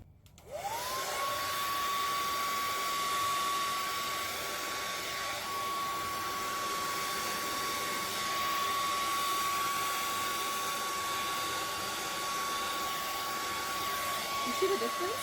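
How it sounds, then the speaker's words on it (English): A hair dryer blows on an acrylic Dutch pour on a tray, a steady, close, loud whirring hum that switches on and runs without a break, with no talk over it. "so let's do it again with the hair dryer."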